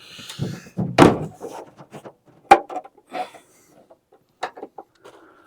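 A door being fitted onto a 1973 Chevrolet K10 4x4 squarebody truck gives several sharp metallic thunks and knocks at irregular intervals, close and loud, with quieter clunks and shuffling between.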